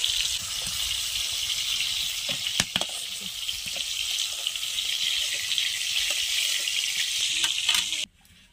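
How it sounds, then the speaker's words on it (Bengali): Prawns lightly frying in a pan, a steady close sizzle with a few small clinks and stirring sounds, cutting off abruptly near the end; no one speaks. "চিংড়ি মাছ বেশি ভাজলে কিন্তু শক্ত হয়ে যায়, তা আমি হালকা করে ভেজে নিয়েছি"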